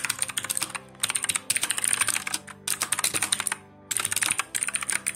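Bursts of fast computer keyboard typing while code is written, clattering in uneven runs with short pauses between them, close and fairly loud with no voices.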